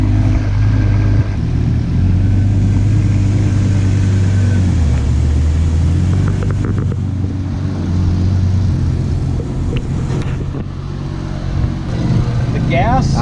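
A V10 supercar engine running at idle, a deep steady rumble close by that shifts slightly in pitch, with people talking over it.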